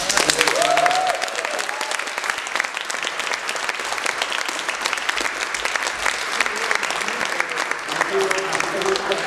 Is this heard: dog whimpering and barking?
no